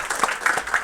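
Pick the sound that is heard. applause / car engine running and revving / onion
applause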